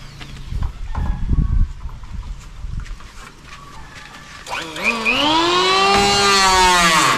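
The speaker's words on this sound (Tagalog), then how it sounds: "Ganda talaga pag may planer. Pwede mong tabasin yung sobra." A Makita electric planer trims wood, with rough handling and knocks at first, then the motor whines up loudly and holds a strong, steady high-pitched drone to the end.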